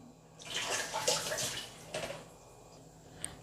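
Flattened rice is rinsed in water for jowar idli batter, close, swishing splashes lasting a couple of seconds, tapering into light drips and a small knock.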